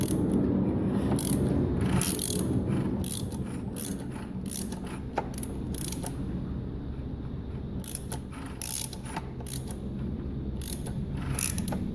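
The engine of a Honda Varadero XL1000 is turned slowly by hand, anti-clockwise, with the valve covers off, giving close, repeated ratcheting clicks and mechanical rattles over a low background hum, with no talk.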